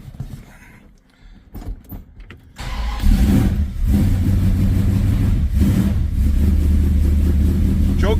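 A 1968 car engine with freshly rewired tachometer cranks, catches and settles into a loud, steady close idle after a few seconds of quieter handling noises.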